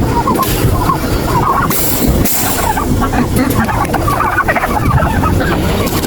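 Large turkeys at a livestock market in Hafar Al Batin, Saudi Arabia, gobble loudly and repeatedly among a busy background where people talk.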